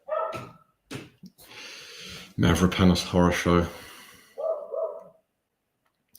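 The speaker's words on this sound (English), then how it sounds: "As my dog gets out her frustration at this game." A pet dog barks in short bursts at home, a cluster of loud, close barks in the middle with quieter yelps around them, mixed with a voice talking over a football match.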